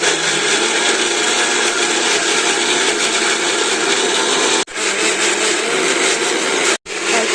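A kitchen blender grinds nuts with water into a paste for vegetarian puff pastry filling, a loud steady whir running continuously with two brief cut-outs near the end.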